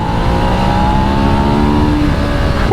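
A Ducati Desert X Rally motorcycle accelerates at half throttle, its engine note loud and close, climbing steadily in pitch through the gears with wind roar underneath.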